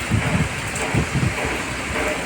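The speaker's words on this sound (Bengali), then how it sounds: "বৃষ্টি হচ্ছে" Steady rain falling by a river, a dense continuous hiss with low gusty rumbles of wind.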